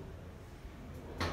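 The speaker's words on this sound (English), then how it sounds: "Doors opening." Kleemann passenger lift doors, 1600 kg capacity for 21 persons, at a Tesco Extra in Liffey Valley, Dublin, sliding open with a brief mechanical thud and rush after a low steady hum; near, moderately loud, no talk.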